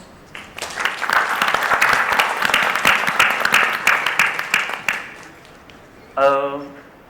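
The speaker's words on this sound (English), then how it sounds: "let us clap for all of us" Audience applause at a supply chain conference panel, a dense burst of clapping that swells quickly, holds steady for several seconds, then fades, followed by a brief voice starting to speak.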